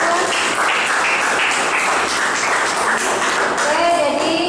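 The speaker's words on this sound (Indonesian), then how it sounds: "tepuk tangan teman-teman" Classmates in a classroom lesson clap their hands together, a dense, steady patter of applause filling the room for several seconds, with children's voices chattering faintly beneath it.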